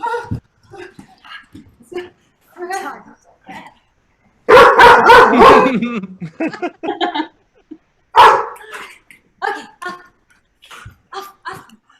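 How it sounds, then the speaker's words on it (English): A dog barks in a burst of loud, clustered barks partway through, heard near and alone between bouts of talk and laughter at a live comedy game show at Gen Con; a single bark returns a few seconds later. "We got a cameo there from your dog."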